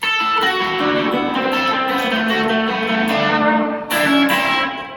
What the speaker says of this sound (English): It served as inspiration for me to come up with another lick that sounds like this.